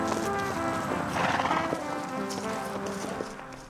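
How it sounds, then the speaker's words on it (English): Horse hooves clip-clop steadily on a ride across the Gettysburg battlefield, close and continuous, with a horse whinnying partway through amid outdoor ambience. "The experience of riding a horse through the Gettysburg battlefield was one that I will never forget."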